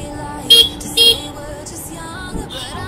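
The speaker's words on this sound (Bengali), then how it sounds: "আমি এখান থেকে হর্ন মারছি আর অরিন্দম রেসপন্স করছে।" A motorbike horn honks twice in quick short bursts on a ride toward a temple near Kolkata, with a fainter answering honk from another rider a moment later over steady road noise.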